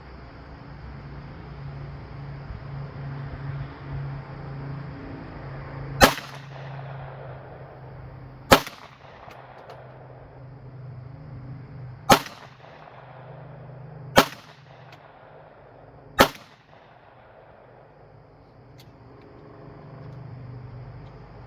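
Five sharp 9mm and .45 Auto pistol shots fired into a test block, spaced a few seconds apart, each a loud crack with a short decaying tail over a steady low background hum.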